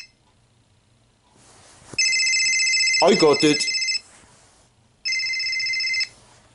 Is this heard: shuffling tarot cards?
no